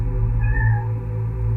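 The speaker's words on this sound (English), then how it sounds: "the cat don't even want it, mate. The cat's possessed" A single cat gives one clear, drawn-out meow over a loud, steady low hum.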